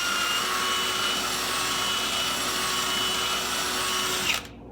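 Drill with a bit cleaning paint from behind a spot weld on an '83 Chevrolet Malibu two-door wagon, a steady loud whirring spin close by that stops abruptly near the end.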